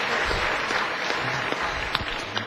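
Audience applause for a performer taking the stage, a steady wash of clapping that holds at an even level throughout with a few sharper claps standing out, no talk over it.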